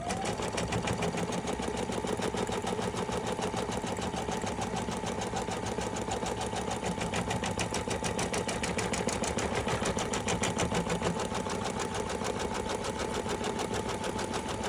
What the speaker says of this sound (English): we're going to go ahead and stitch the first step down on the stabilizer to see our placement